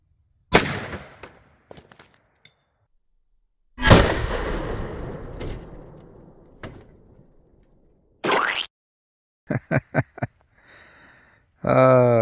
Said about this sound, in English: Let's see if I can actually hit the thing this time.